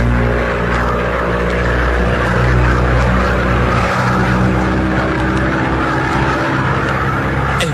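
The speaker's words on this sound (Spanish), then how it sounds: "El viento huracanado se estrellaba contra los flancos de la avioneta" A small light plane drones through a hurricane-force windstorm, its engine a loud sustained roar with swelling gusts and rushing wind across the full length, no voices.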